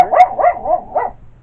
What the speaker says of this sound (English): Sorry guys, sounds like somebody's home. My dogs are barking.